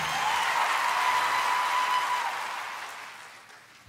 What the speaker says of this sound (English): I wasn't looking for cheap applause.